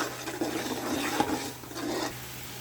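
Ginger garlic paste fries in a pot while being stirred, giving a soft steady sizzle with scraping stir strokes, close and fairly quiet, with no talk over it.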